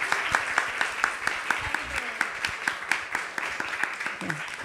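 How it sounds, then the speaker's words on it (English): An audience at a Mother's Day celebration claps in a steady, moderately loud round of applause with individual hand claps clearly audible, while a voice speaks briefly underneath. "So please give them a big round of applause."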